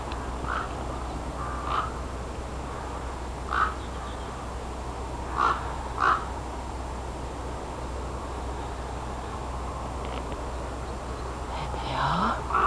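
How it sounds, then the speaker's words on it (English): Crows caw a few scattered single calls at a distance on a hill walk, faint against a steady wind-like outdoor hiss, with no talking. "White crows."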